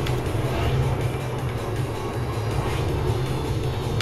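A jet plane in a driving video game roars with a steady, loud engine rumble that holds without a break for several seconds, and no voices come through.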